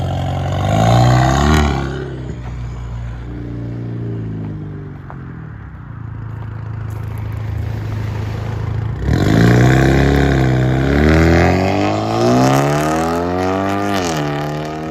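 A 2015 Hyundai Veloster Turbo with straight pipes and blast pipes revs up loud and close in several rising and falling pulls, the exhaust roaring and crackling between throttle blips, with no voices.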